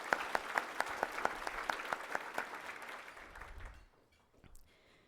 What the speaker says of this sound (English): Let's give it one more round of applause because it deserves it